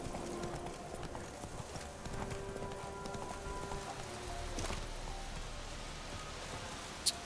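Horse hooves clip-clopping at a steady gallop in the video game Witcher 3, with a patter like rain over a continuous ambient bed and a brief sharp click near the end.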